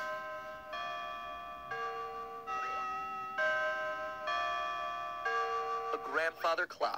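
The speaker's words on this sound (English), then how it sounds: "A grandfather clock, chiming the same song every time." A grandfather clock chime from the Five Nights at Freddy's video game rings out loud and close as a run of sustained bell tones in a steady melodic sequence. A voice speaks briefly at the very end.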